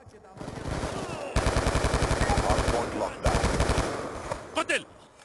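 An M27 rifle fires in a video game in two long, rapid automatic bursts, each a dense, evenly spaced string of close, loud shots, followed by a few brief clanks and sounds.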